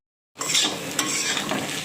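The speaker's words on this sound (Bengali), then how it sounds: "এবারে এভাবে নেড়ে আমি ফ্রাই করে নিচ্ছি" Pointed gourd sizzles in a frying pan as a spoon stirs and scrapes against the metal, starting abruptly after a moment of silence.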